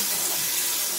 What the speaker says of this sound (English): I like to wash my dishes with hot water